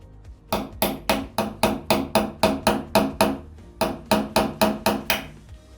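A screw held against a wall is tapped with a hammer to mark a drill spot: two quick runs of about a dozen sharp, evenly spaced knocks each, close and clear, with no voices.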